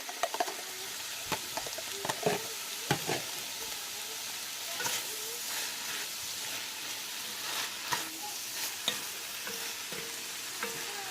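Shrimp seasoned with garlic and pepper sizzle and fry steadily in a pan for a shrimp filé gumbo, with scattered stirring scrapes and clinks over a continuous bright hiss, close and moderately loud, no voices.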